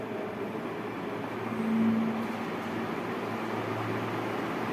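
A repaired ceiling fan, fixed for running slowly, runs steadily just after being switched on, giving a continuous low hum and whirr with a slight swell in the middle and no talking.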